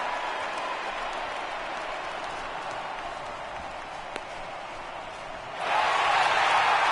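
A baseball video game crowd gives a steady, distant roar of cheering and applause that swells louder near the end, with no clear talk over it.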